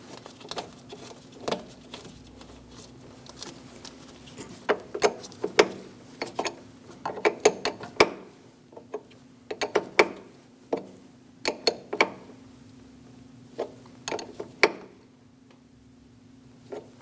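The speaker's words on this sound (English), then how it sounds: "Using a 14mm wrench, snug it down." A 14mm wrench snugging the battery terminal bolt on a Chevrolet Express 2500 van: sharp metallic ticks and clicks in irregular bursts, close up, with quiet gaps between, no voices.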